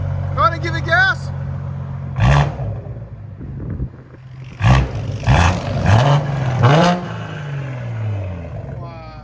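Loud straight-piped 2019 BMW 540i with a 3.0L turbo inline-six and downpipes, revved in several sharp blips that roar and fall back to a burbling idle, close by, with people talking between revs.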